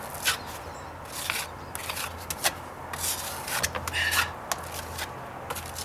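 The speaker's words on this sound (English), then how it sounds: "Wipe the edge." A hand wipes along the edge of a wooden deck stair, giving soft repeated rubbing and scraping strokes over a faint background hum.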